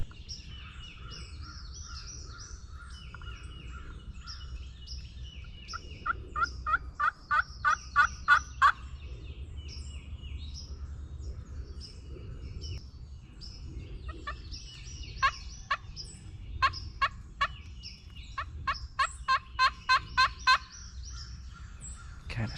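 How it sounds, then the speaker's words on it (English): A wild turkey gobbles repeatedly from one spot in a Tennessee woodland during turkey season, with several rapid rattling gobble bursts and scattered songbird chirps over a quiet outdoor background. "He's definitely gobbling in one spot."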